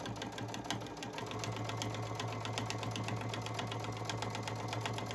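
Close, continuous whirring and rapid ticking of a sewing machine stitching along a dish drying mat being made into a basket, steady in speed and level throughout with no speech.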